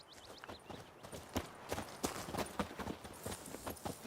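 Hooves of Roach, a horse in The Witcher 3 video game, clip-clop in a steady rhythmic walk, each hoof strike crisp and close over a soft ambient bed.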